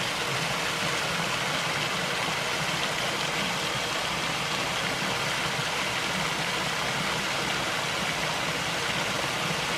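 A forest creek waterfall in Bankhead National Forest, Alabama, with a good flow, pours as a dense, constant roar that stays steady and loud the whole time, with no voices.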